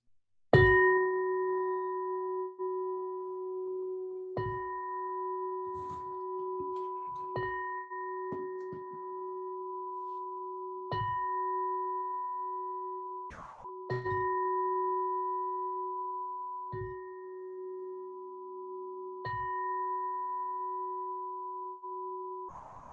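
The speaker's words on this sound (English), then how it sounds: "The sound that you're hearing is from a chakra bowl that resonates with every chakra." A chakra bowl resonates with a steady, pure ringing tone that hums on for over twenty seconds, refreshed every few seconds by soft strikes, quiet and alone with no talking.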